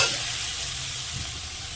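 Water poured into fried spice paste with oil in a pan, giving a loud, steady hiss and sizzle close by that holds evenly for a moment, with no talking.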